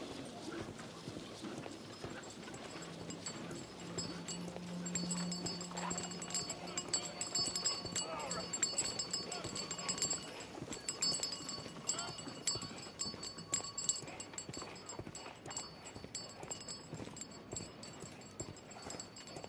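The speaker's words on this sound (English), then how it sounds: "Horse" Horse hooves clip-clop steadily on a street, a continuous rhythmic clatter of moderate loudness running throughout over a low background of street noise.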